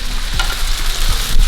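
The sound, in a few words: rice frying and stirring in pan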